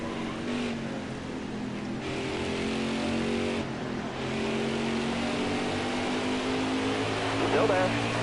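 Race car engines in a NASCAR-style racing video game at New Hampshire, a continuous droning engine roar with rising pitch as cars run in a pack, steady and close, with a voice talking over it.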